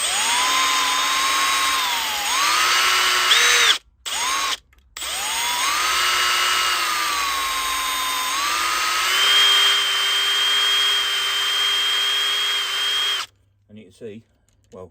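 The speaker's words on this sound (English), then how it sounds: "this is just a polishing mop from a Dremel, and I'm going to put that on the opposite side wheels" A Dremel rotary tool with a polishing mop whines steadily against the wheels of a Triang 'Princess Elizabeth' model locomotive, its pitch dipping under load, cutting out twice briefly and stopping near the end.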